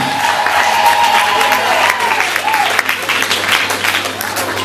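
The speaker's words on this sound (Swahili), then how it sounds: "Pigia Bwana Yesu makofi." A church congregation claps together in sustained applause for Jesus at a healing service, steady and fairly loud, with a few voices rising over the clapping.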